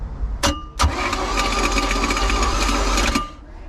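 A small boat's engine starter cranks loudly for about three seconds, a rapid whirring chug that begins after two sharp clicks and then stops; the engine has no spark.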